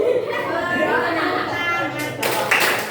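Pupils in a classroom clap their hands together during a guided action song, a burst of claps rising near the end over steady voices of children and a teacher talking.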